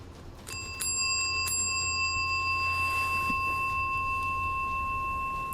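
A small handheld bell rings twice in quick succession, sharp bright clangs that leave a long, clean ringing tone hanging over a low steady hum.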